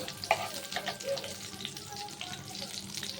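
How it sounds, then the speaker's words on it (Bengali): Panch phoron, dried chili and bay leaf tempering in hot oil before taro greens are added, a soft steady sizzle with a few light stirring clicks and faint background clatter. "তারপরে একটু পাঁচ ফোড়ন শুকনো লঙ্কা আর একটু তেজপাতা ফোড়ন দিয়ে দিলাম ফোড়ন দিয়ে এবার একটু নাড়িয়ে নিচ্ছি"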